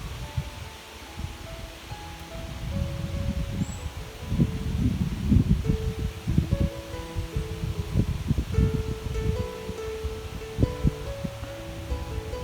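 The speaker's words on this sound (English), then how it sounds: "Just watching the trees up there, dancing in the wind." Wind moves through tree leaves at an outdoor wild camp, giving a continuous rustling wash that swells and eases in gusts, with faint birdsong threading through.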